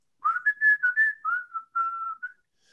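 Melodic whistling from a played song recording in a New Orleans funk and R&B setting, a clear tune of sustained and sliding notes in short phrases, heard alone without talk.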